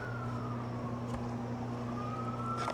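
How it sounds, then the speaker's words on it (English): An ambulance siren wails steadily in the distance, its tone sliding slowly down and back up, over a low hum of traffic. "I'm definitely not used to hearing ambulance sounds"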